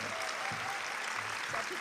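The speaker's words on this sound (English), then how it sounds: "Let's give her another round of applause." Luncheon audience at a 2018 tribute event clapping, a soft, steady patter of many hands heard at low level through the short stretch.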